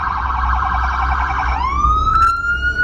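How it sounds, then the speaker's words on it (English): An ambulance siren wails from behind a car in traffic, loud and close, first a steady tone and then a rising sweep, with no talk over it. "I could see an ambulance coming from behind, so I will slow down"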